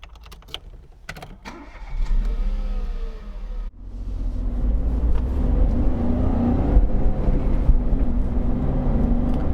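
A smart fortwo starts up, with a few clicks followed by the engine catching, then a loud, steady, buzzy small-engine drone and rumble that builds as the car drives off.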